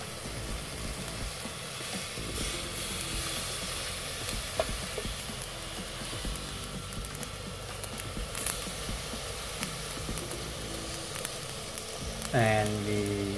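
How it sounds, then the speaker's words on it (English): Garlic and shallot fry in a pot with a steady, close sizzle that runs the whole way, with faint stirring scrapes now and then and a brief louder clatter near the end. "we add garlic and shallot, you can see in the video"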